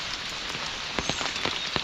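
Heavy morning rain pouring steadily onto a surface, a dense continuous hiss with a few sharper drips standing out near the end.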